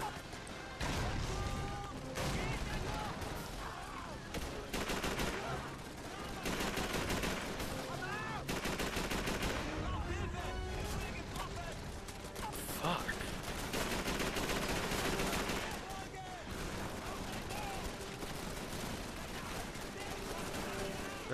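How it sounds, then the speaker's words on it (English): Continuous heavy gunfire from the Call of Duty 3 video game, dense overlapping shots and blasts with loud crashes filling the whole stretch, with a voice speaking over the battle. "They're shooting the living shit out of us."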